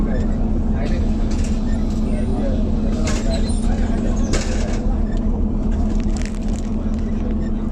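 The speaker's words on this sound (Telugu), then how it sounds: "bus 11వ number bus బయలుదేరినాను" A city passenger bus under way, heard from inside as a loud steady engine drone with rattles and occasional clanks, while passengers' voices murmur in the background.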